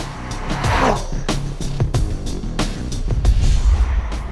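A 2014 BMW M5 Competition Package, a 4,400-pound sedan, accelerates hard with a rough engine roar broken by sharp clicks and thumps, loud and close throughout.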